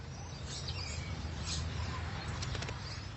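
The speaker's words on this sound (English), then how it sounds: "And parrots happily accept the invitation." Parrots in a city planted with native trees flap their wings and call. Soft wingbeats and scattered chirps sit over a steady low background, with a cluster of sharper calls toward the end.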